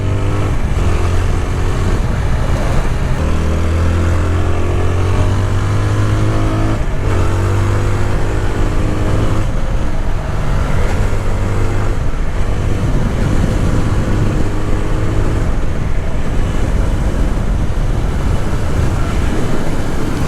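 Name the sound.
TVS Apache 160R motorcycle engine while riding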